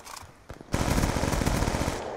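A gun in Black Ops II fires one sharp shot, then a long loud automatic burst of rapid rounds that runs to the end, close and steady.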